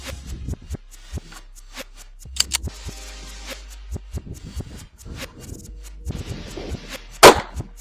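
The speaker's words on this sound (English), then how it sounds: "We're going to shoot another group at the top left diamond." Pistol shots ring out at a range while a red dot sight is zeroed, several sharp separate cracks spaced unevenly with quiet gaps between them, plus a few clanks and metallic rattles.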